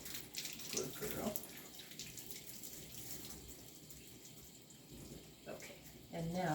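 Faint running water from a tap or sprayer rinses a puppy during a bath, a soft continuous flow with a few brief knocks and a voice heard intermittently.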